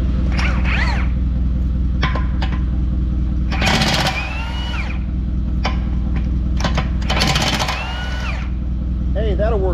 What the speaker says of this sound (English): I can take and spin them loose with the big 1-inch impact